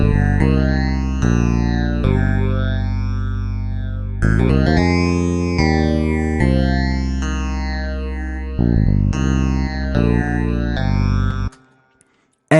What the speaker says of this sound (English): So that bass line and the harmony played by the phaser clavinet sounds like this.